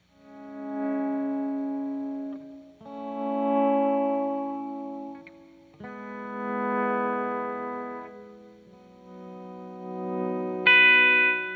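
Electric guitar notes swell in slowly from silence as the volume knob is rolled up, each sustained tone blooming and fading in turn, colored by effects such as chorus, echo and reverb.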